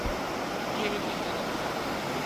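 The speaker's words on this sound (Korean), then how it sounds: "물소리가 아주 장난 아닙니다." Rushing water from a wide mountain valley stream at Seoraksan in autumn, a steady broadband roar that fills the whole clip without pause, close and loud, with no speech over it.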